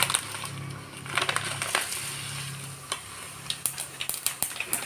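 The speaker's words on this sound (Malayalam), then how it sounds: "ചൂടായ വെളിച്ചെണ്ണയിലേക്ക് നമ്മൾ ആദ്യം ഇടുന്ന പെരുംജീരകം" Fennel seeds crackle and sizzle in hot coconut oil, a steady frying hiss broken by sharp pops that grow more frequent toward the end, close and moderately loud with no talking.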